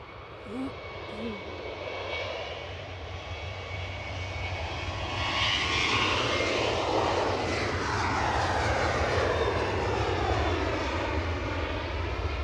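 American Airlines jet taxiing at Edinburgh Airport, a steady mid-distance engine roar that swells and grows louder over the second half, with faint talk at the start.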